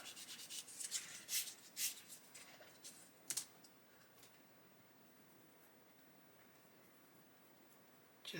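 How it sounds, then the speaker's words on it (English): Sandpaper works a tan plastic seam on a part of a HobbyBoss 1/35 Scammell Commander scale model. Quiet, close, scratchy rubbing strokes come in short bursts for the first few seconds, then fade to near silence. "Just sand until both sides of the seam are tan plastic."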